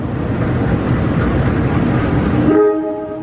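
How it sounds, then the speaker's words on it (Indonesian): A local train rumbles into Gedebage station in Indonesia with broadband rolling noise, then a horn blares with steady tonal harmonics near the end; loud and close, no talking. "kereta lokal tiba di stasiun Gede Bage"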